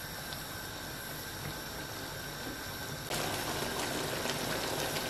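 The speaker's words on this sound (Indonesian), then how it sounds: "Nah, ini sudah mendidih ya santannya." Coconut milk with tempeh comes to a boil in a pot, giving a steady, soft bubbling hiss that turns brighter and louder partway through, with no talking.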